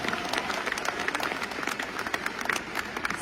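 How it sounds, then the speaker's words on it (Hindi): Audience applause at a motivational talk, dense clapping from a crowd that stays lively and fairly close for a few seconds. "तालियां हो जाए एक बार।"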